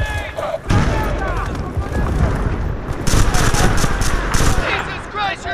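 Dense Battlefield: Bad Company 2 gunfire crackles in loud overlapping bursts, with booms and battle chaos, while a voice shouts over the shooting.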